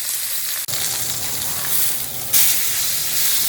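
Beef brisket browns and sears in a hot pan, giving a steady loud sizzle and hiss that swells slightly louder partway through as the meat settles into the fat.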